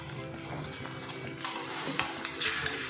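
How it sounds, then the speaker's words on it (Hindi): Chicken pieces stirred through a cooking chilli gravy in a pan over a low flame, with a steady close sizzle and scraping stir sounds, a few sharper clacks near the end, and no talking. "अभी देखिए ग्रेवी हमारा पक गया है, इसमें सारा चिकन हम ऐड कर देंगे।"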